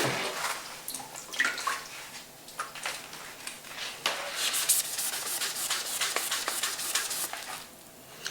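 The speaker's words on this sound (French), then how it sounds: "Il suffit de la mouiller un peu" Water splashes and rubbing sounds as a magic eraser sponge is wetted to clean sports grips, steady close scrubbing and dripping noises over several seconds, with no talking.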